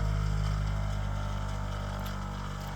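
An axial flux alternator driven by a small brushless motor at 8 volts spins with a loud, continuous, steady whirring hum and buzzing tone, close and unbroken throughout.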